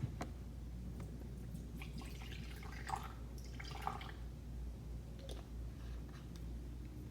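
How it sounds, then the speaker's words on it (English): Rose toner trickles and drips faintly into a measuring cup in a quiet room, with scattered light liquid splashes over a low steady background. "pour about 50 to 60 mils into your measuring device"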